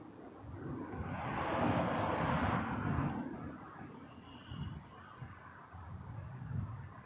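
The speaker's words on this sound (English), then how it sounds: "WestJet 1227 coming in from Orlando," A WestJet Boeing 737-800 airliner landing at Toronto Pearson, its jet roar swelling and then fading as it passes at a distance, followed by lower rumbling, all fairly faint.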